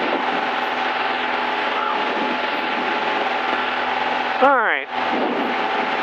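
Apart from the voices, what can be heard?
Zenith CH 750 Cruzer light aircraft taking off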